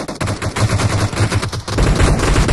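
Video game gunfire fills the scene with dense, loud bursts of rapid shots in a steady automatic rhythm, close up and nearly continuous, with no voices over it.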